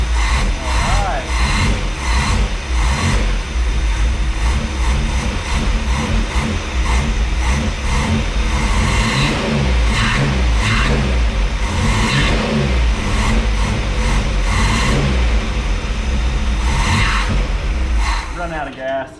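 A Pontiac Fiero GT's 2.8L carbureted engine with a swapped intake revs loudly and continuously at close range, its throttle rising and falling through a steady roar while people talk over it.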